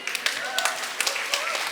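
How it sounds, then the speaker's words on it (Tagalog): A church congregation clapping during a sermon: a short burst of scattered, irregular handclaps of moderate loudness with no voices over them. "Okay lang pumalakpak."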